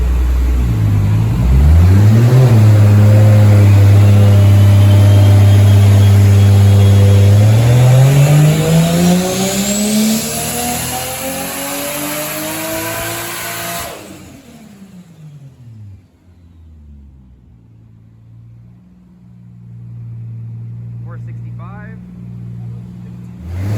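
A turbocharged non-VVTi Toyota 2JZ-GE in a right-hand-drive MkIV Supra pulls hard and loud under 15 psi of boost, its note rising steadily, then the throttle closes and it falls back toward a lower drone with a faint flutter at the end.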